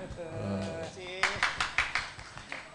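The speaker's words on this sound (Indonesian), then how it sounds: "Tepuk tangan untuk Sukiman" After a moment of talk, a group at a Javanese wayang limbukan performance breaks into several sharp, rhythmic hand claps that quickly thin out and fade.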